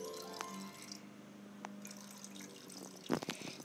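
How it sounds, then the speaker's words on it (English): Flowers being watered in a PBS Kids video game, with light cartoon drips and splashes and a few bright tonal cues scattered across the quiet background, ending in a short burst of sprinkling water. "Let's water the flowers."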